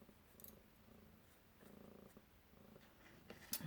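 A cat purring on a person's lap, a faint, low, steady rumble with a soft pulsing rhythm, continuous and close, with slight rustling and no talking.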